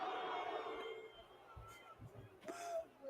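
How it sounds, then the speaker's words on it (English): Home crowd booing its own team in a baseball video game, a faint distant swell of crowd noise under a voice talking, with a few soft thumps. "I like that they have the home crowd booing the home team."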